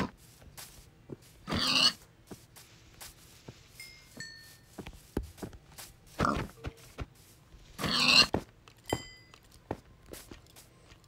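Minecraft pigs oinking in short grunting bursts, a few distinct snorts spaced several seconds apart, with scattered clicks and footsteps between them in a quiet game scene.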